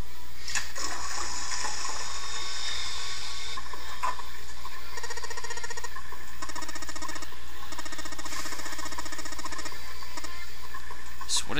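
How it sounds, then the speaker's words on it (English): A toilet flushing in the video game 9 Hours, 9 Persons, 9 Doors, a sustained rushing, gurgling wash of water with splashy patter, fairly loud and continuous. "Flushing the toilet randomly."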